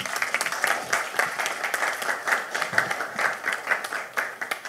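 An audience at an AI conference closing session applauds with steady, dense clapping that carries on evenly throughout, moderately loud and close.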